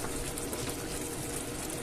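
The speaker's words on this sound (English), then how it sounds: "the water's starting to boil" Pot of water on a heater coming to a boil for spaghetti, a steady close bubbling and rushing hiss that stays even throughout, heard alone without talk.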